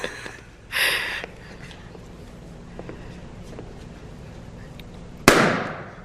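A balloon pops on a dating show with a sharp, loud burst near the end, after an earlier soft rustle and under quiet room noise.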